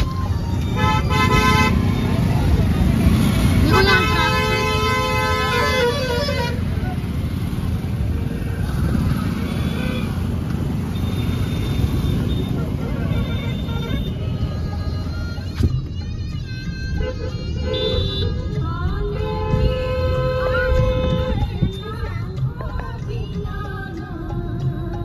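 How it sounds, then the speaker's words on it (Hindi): Heavy road traffic crawls across Naini bridge, with engines rumbling throughout and car horns tooting again and again, some close and loud, others further off, over a dense steady background. "यहाँ हम लोग जब पहुंचे बहुत ट्रैफिक लगी हुई थी"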